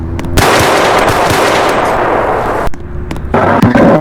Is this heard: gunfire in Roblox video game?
yes